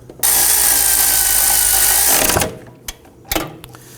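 A power tool whirs loudly and steadily for about two seconds while tightening the front bolts on a 2005-2009 Subaru Legacy steering knuckle, then stops, followed by a few sharp metallic clicks and clunks nearby.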